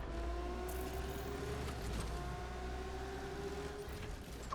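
A Lamborghini driving in the Need for Speed Unbound racing game, its engine a steady close drone with a sustained tonal whine and slight pitch shifts, constant and moderately loud with no speech.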